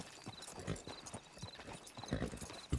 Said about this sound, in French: C'est balader le cheval comme ça.